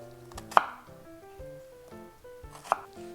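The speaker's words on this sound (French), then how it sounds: "Et je les coupe." A knife cuts vegetables for Japanese nikujaga with two sharp, close chops about two seconds apart, over soft background music.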